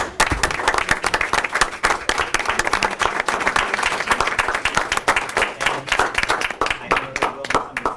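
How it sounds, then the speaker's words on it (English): A room of people applauds retirees at a school committee meeting, dense steady clapping lasting throughout, fairly close and loud. "We'll give them a round of applause."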